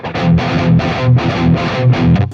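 Palm-muted electric guitar through a humbucker with heavy distortion, playing a riff: chugging, percussive chords in a steady rhythm of short repeated bursts, loud and alone.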